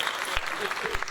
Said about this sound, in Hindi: तालियां बजाइए एचआर मैडम के लिए।